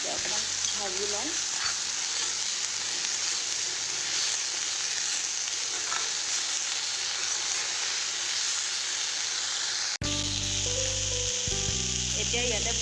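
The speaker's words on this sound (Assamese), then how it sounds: "অলপ নিমখ হালধি দি দিলোঁ, এতিয়া অকণমান ভাজি লওঁ।" Dhekia fern greens fry with salt and turmeric in a hot pan, a dense, loud continuous sizzle with stirring scrapes throughout, shifting abruptly to a brighter, tonal hiss near the end.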